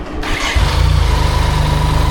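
A BMW K75RT motorcycle, revived after sitting nine years, fires up with a brief cranking whir and settles straight into a loud, steady, even idle with a close, rhythmic exhaust pulse.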